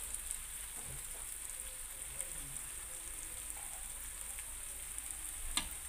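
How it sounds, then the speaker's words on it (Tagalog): Chili peppers frying in a pan, a steady faint sizzle and crackle with occasional stirring scrapes and a sharp clink near the end, no talking. "Lutuin lang natin yung sili. Lutuin lang ang sili ng maigi."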